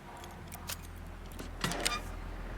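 A quiet jingle of a bunch of keys being picked up and handled in the Hitman 3 video game, a few brief metallic rattles over a low steady hum.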